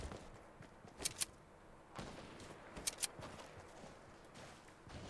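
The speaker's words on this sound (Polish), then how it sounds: "Strzelają. Słyszę strzały." Gunfire in a Fortnite match, with a few sharp shots in quick pairs off in the distance over faint game ambience and footsteps.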